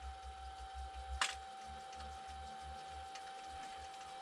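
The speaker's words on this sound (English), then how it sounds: "it's starting to shake the lathe there" A wood lathe turns an out-of-round, out-of-balance log at very slow speed, giving a steady low rhythmic thumping and rumble with a constant whine, a sharp knock or clatter near the start, moderately close.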